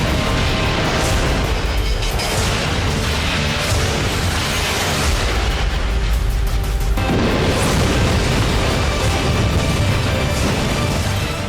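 Explosions from the Pearl Harbor attack, a dense, continuous barrage of loud booms and crashing blasts layered over each other, with no pause and a fresh surge of impacts about two thirds of the way through.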